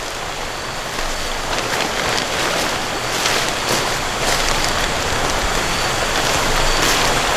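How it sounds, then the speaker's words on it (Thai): Rain falls steadily on a forest during the rainy season, a dense, even hiss of drops on leaves and ground that holds at constant loudness throughout, with no voices. "ฝนตก"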